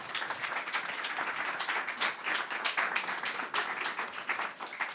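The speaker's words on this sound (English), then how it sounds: "please provide a big applause to all of them." An audience at a public health nutrition event applauds steadily, a dense patter of many hands clapping at moderate distance, continuous and alone for the whole stretch.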